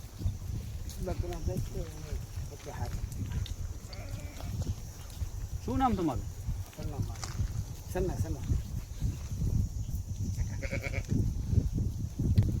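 Goats bleat now and then, wavering calls rising over a steady outdoor background while people talk nearby.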